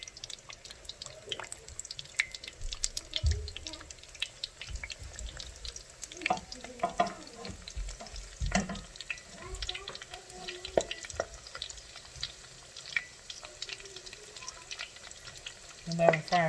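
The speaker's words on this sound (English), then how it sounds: "They're frying really good. Look at that. See how good that's frying?" Empanadas frying in hot grease, a continuous crackling sizzle with irregular pops and spits, plus occasional utensil clicks and a brief muffled voice.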